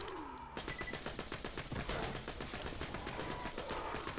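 Rapid, continuous pistol fire from the Infinity Pistol in Borderlands 2 rattles on without pause after a short quiet start, loud and dense like a machine gun.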